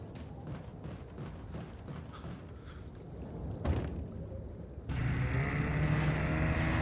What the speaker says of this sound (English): Oh god, the sound of this boat.